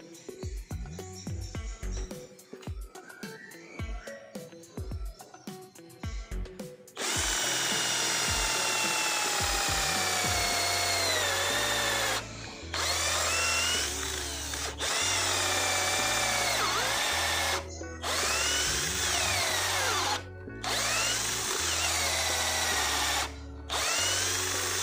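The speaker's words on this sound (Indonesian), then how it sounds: "Berikutnya mata bor kayu 10 mm menggunakan mode drilling dan juga percepatan nomor 2." A Deli 12V cordless drill in drilling mode at speed setting 2 bores into wood with a 10 mm wood bit. Tapping and handling sounds come first, then a loud, sustained motor whine interrupted by several brief stops and restarts.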